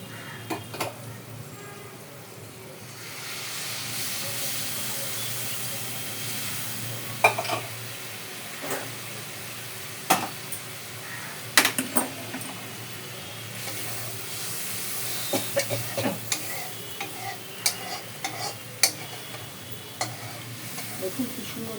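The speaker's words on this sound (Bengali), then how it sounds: "এইবার এর মধ্যে আমি পরিমাণ মতো জল দেবো।" Water poured into a hot pan of hilsa fish curry sets off a loud, sustained sizzling hiss with steam, broken by sharp clinks of a utensil against the pan.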